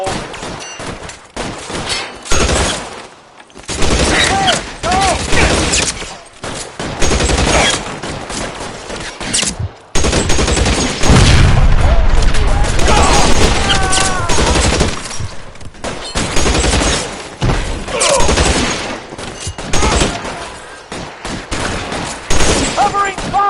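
A gunfight in the game L.A. Noire, with dense, sustained gunfire crackling almost continuously through the clip and a short break partway through, while voices shout over the shooting.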